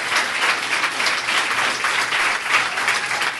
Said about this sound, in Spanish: Un aplauso por Cristo Jesús